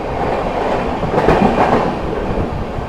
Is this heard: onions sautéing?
no